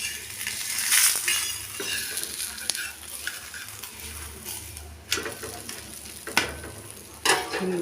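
A thin potato paratha cooks in oil on a pan, giving a steady close sizzle throughout, broken by occasional scrapes and light clinks of a utensil turning or pressing the flatbread.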